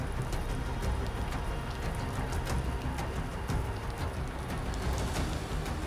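Steady hiss of heavy rain falling on an alien world, a dense even patter with scattered sharper drop impacts and no voices.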